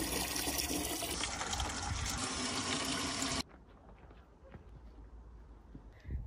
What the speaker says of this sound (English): I'm going to give everything a really quick light water with some feed.